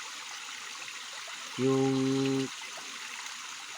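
Water flows steadily from a stream at a farm water source, a soft continuous trickling wash heard up close, briefly interrupted by a short tonal hum in the middle and a quick spoken word.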